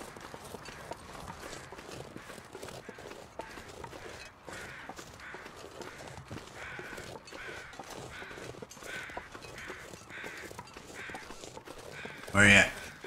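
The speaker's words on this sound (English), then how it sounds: "I'm hearing the crows" Crows caw in the snowy wilds of The Long Dark survival game, faint and distant over a steady crunch of running footsteps, with one sharper call near the end.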